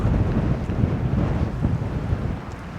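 Strong wind buffets the microphone during an outdoor bike ride, a loud, continuous low rumbling roar that fills the whole stretch with no voices.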